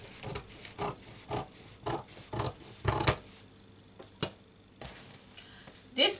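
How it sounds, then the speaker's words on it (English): Scissors cut through gown fabric in a series of short, crisp rasping snips, about a dozen bursts with brief pauses between them, close and fairly quiet with no talking. "Next thing I'm going to do here, I'm going to cut out my fabric"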